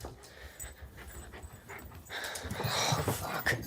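A dog pants close by at an outdoor tailgate, quick breathy huffs in a steady rhythm that grow louder and more rushed toward the end, with a faint whimper and background noise.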